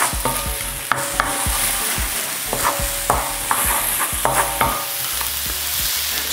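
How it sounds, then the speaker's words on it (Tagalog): Pork liver sautés in a hot pan for menudo, with a constant close sizzle and repeated scraping stirs of a utensil against the pan. "Una nating igigisa dito yung liver o yung atay ng baboy."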